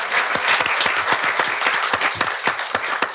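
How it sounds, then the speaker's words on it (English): Audience applause at a school district board meeting, steady, dense clapping from a room full of people that holds at full strength throughout, with no talking over it. "that's a round of applause right there"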